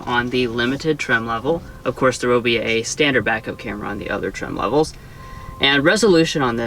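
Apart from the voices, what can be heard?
No everyday noise stands out behind the speech.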